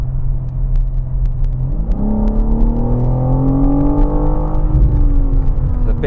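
A BMW G82 M4 Competition xDrive engine pulls hard while driving, a deep rumbling drone rising in pitch through the revs with a brief shift midway, heard from inside the cabin, steady and loud.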